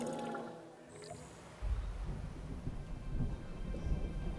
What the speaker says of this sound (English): Oh, a storm's coming in.